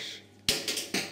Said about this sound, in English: first we cut these copper wires